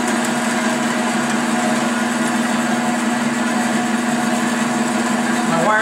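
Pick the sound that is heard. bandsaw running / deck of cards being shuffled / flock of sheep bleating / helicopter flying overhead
bandsaw running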